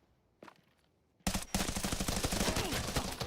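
A single shot comes first, then a sustained, loud burst of rapid automatic gunfire as a full magazine is emptied in the Arena Breakout Infinite shooter game, with no talk.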